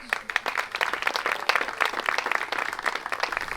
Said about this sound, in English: Get a round of applause for the Lee's family.